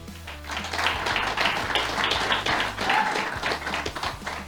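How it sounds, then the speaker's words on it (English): Audience applause, a dense, steady clapping that holds at an even level for several seconds before thinning slightly toward the end. "Please help me appreciate them with a thundering applause."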